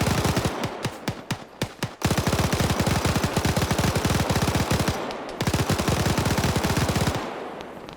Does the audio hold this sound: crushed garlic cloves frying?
no